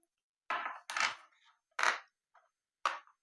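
Coins dropping into a vending machine in an animated children's cartoon: four separate clinking drops, spaced roughly a second apart, each bright and short, with silence in between.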